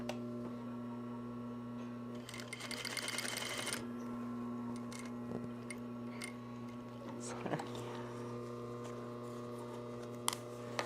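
An industrial sewing machine stitches across the bottom of a fabric shoulder bag, a short rapid run of needle clatter rising over a steady electrical hum, with a few faint clicks afterward in a quiet workroom.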